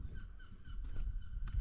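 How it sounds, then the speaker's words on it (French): Seagulls call faintly in the distance over steady outdoor ambience at Mont Saint-Michel, beside the bay at low tide, with a few short cries rising near the end. "On entend les mouettes au loin."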